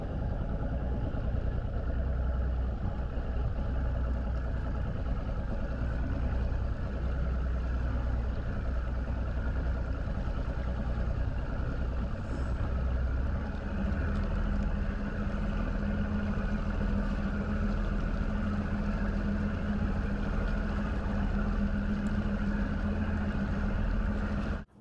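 A boat engine idles steadily over a rocky point while fishing, a continuous low rumble with water lapping faintly, no voices.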